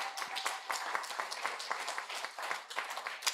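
Soft, scattered clapping from a modest audience at a community awards event, steady and fairly faint for a few seconds.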